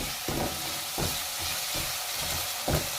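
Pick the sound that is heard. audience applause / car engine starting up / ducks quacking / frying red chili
frying red chili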